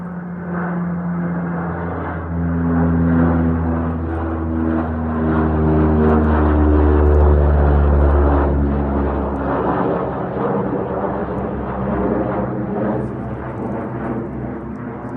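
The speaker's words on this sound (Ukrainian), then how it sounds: "Ось літак летить." A propeller airplane, likely flown by training cadets, passes overhead in a forest while mushrooms are being gathered, its loud, droning engine swelling and shifting in pitch and filling the whole stretch.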